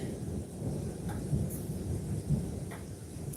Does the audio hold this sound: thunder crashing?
yes